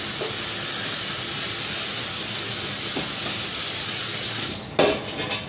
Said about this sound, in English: As I go, I'm gonna wash this pot top.